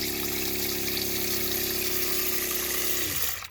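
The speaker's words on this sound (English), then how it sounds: "right here is the on-off switch for the water pump that I just installed" A newly installed water pump inside a camper runs with a steady, loud droning hum and rushing water flow, then abruptly winds down and stops just before the end.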